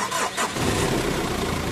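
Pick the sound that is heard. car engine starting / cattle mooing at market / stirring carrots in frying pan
car engine starting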